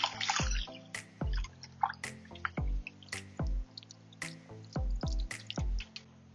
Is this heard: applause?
no